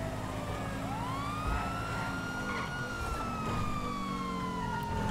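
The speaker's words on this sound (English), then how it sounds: "Can't you hear my sirens?" Police car siren in the GTA5 video game, a loud wailing tone sweeping up and down over engine rumble and traffic noise, heard continuously throughout.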